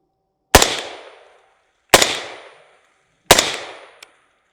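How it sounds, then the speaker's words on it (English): Three loud, sharp rifle shots fired from a Taran Tactical V7 Sovereign with green tip 62 grain ammunition and a suppressor, evenly spaced about a second and a half apart, each ringing out with a decaying tail. "So first shots will be the green tip 62 grain."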